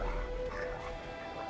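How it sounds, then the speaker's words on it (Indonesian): A dog barks and yelps in the video game Wo Long: Fallen Dynasty, a short growling cry set against steady game ambience and music. "Aduh, ada guguk juga lagi."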